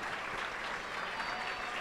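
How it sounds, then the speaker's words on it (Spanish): Steady crowd applause at the World University American Football Championship match between the United States and China, a continuous wash of clapping from a distant stadium audience. "Claps, aplausos"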